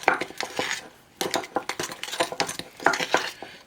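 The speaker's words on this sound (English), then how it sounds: "Just mixing it a little. Actually, I'll use this one, a little nifty mini spatula." Small spatula stirring and scraping hard sauce in a bowl, giving close clinking and scraping strokes in uneven bursts with brief pauses, no talking.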